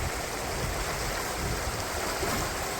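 Water of the Narmada river rushes over stones on a bridge crossing, a steady, fairly faint broadband gush with no voices.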